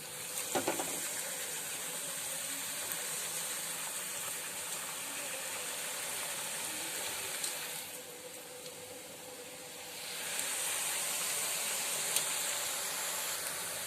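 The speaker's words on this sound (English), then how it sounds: "We will be frying them till they turn golden brown" Homemade nachos frying in oil over a low-medium flame give a steady, even sizzling hiss that carries on throughout, easing briefly in the middle before returning at full strength.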